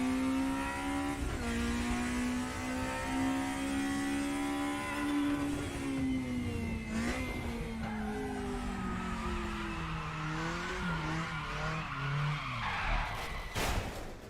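A Group A race car without ABS in the RaceRoom sim racing game screams at high revs, the engine pitch sliding down through braking and gear changes as tires skid, then surging again near the end.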